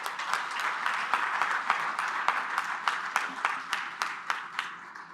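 An audience at a global policy forum applauds after the opening declaration, a dense wash of clapping with sharper individual claps standing out as it slowly thins toward the end.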